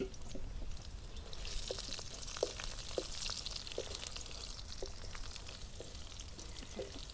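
Dried red chillies sizzle and crackle in hot oil as a tempering for moringa leaf dal, a steady close frying hiss with scattered pops and light stirring clinks throughout.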